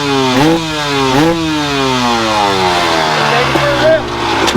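Small kick-started engine, likely a dirt bike, running and warming up, its loud buzzing note rising and falling through quick revs and idle dips, close and continuous throughout.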